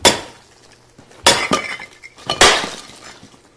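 The barrel of a Savage 110 Carbon Tactical rifle is swung hard against a concrete block in freezing cold, three sharp cracking impacts spaced about a second apart, each ringing briefly.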